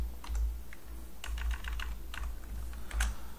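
Fingers type code on a computer keyboard, with quick clusters of crisp, close key clicks separated by brief pauses over a low steady hum.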